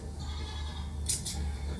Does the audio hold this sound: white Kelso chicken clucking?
no